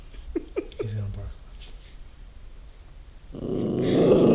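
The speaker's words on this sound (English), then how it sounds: "He's gonna bark." A dog gives a few short low growls close by, then rustling and shuffling noise rises toward the end, with people talking quietly in the background.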